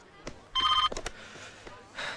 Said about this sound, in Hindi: फोन बज रहा है। फोन।